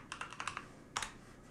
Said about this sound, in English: I'm going to put in my super secret password.